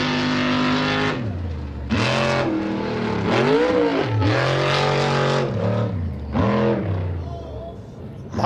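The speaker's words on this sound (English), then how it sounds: "You heard him up in the air just revving the motor, playing around." Truck engine revving hard while the vehicle is airborne on an off-road race course, with repeated rising and falling bursts of throttle and a commentator talking over the engine throughout.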